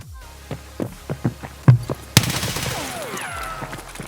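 Escape From Tarkov video game gunfire from an MCX rifle: a run of single shots at an uneven pace, each a sharp punch, then one louder crack followed by a noisy, ringing tail.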